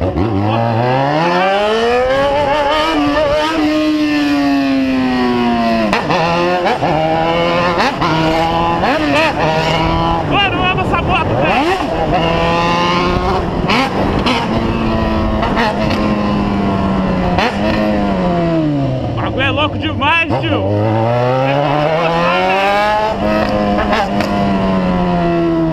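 A motorcycle engine runs and revs repeatedly, rising and falling in pitch through long sweeps, loud and close throughout with faint voices underneath.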